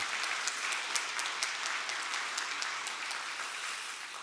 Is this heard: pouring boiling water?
no